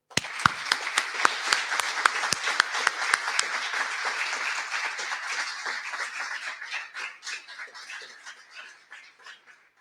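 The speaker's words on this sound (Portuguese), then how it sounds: "ter aqui uma grande salva de palmas de amizade e de estima" Applause from an audience at a rehabilitation nurses' national day event, a dense patter of clapping that starts strong with a few sharp claps standing out, then thins gradually toward the end.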